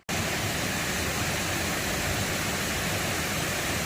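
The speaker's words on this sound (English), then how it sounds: "made it to Little Wilson Falls. It's really nice. Kind of pouring down into a canyon." Little Wilson Falls pours into a canyon, its steady broadband roar of falling water continuous, loud and close throughout, with no voices over it.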